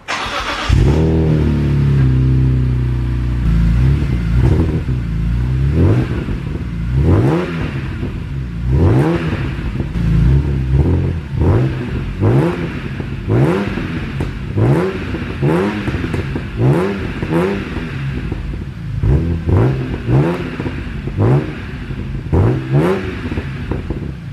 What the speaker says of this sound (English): Rasp delete pipe is on, guys. I'm gonna go ahead and give it another start.